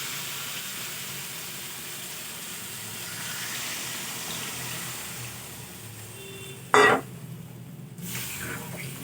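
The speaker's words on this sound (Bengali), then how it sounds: "এবার আমি পরিমাণ মতো জল দিয়ে দেবো।" Water poured into a pot of spiced fish curry masala with green banana and potato: a low steady hiss, then a brief loud splashing sizzle burst that quickly dies away.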